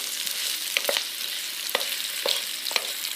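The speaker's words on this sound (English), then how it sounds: "You hear that sizzle? That sounds very good." Fried rice sizzles in a pan with sesame oil, a steady close hiss of frying broken by a few sharp clinks and scrapes of stirring.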